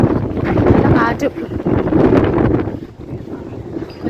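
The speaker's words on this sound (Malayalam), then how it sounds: "നല്ല കാറ്റും" Strong wind buffets the microphone in a continuous roar at a crowded tourist spot, with people's voices mixed in.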